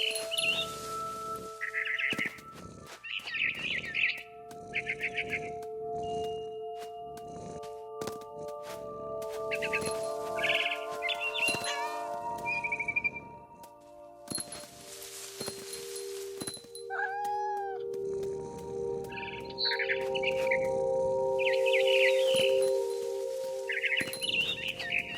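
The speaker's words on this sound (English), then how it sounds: "Then I heard chirping outside my window. It was a barn swallow going back to her nest." Barn swallow chirps ring out in brief bursts over a video game soundscape with music-like tones and occasional thuds, the calls recurring through the scene.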